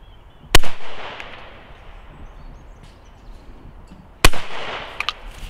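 A Browning Maxus II semi-automatic shotgun firing clay cartridges: two sharp, loud reports about four seconds apart, each ringing out briefly, with faint clinks between them.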